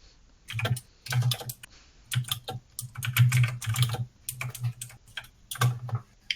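Bursts of fast typing on a computer keyboard come in irregular clusters separated by short pauses, the keys clattering close and fairly loud with no other sounds.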